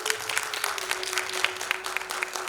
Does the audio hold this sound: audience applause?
yes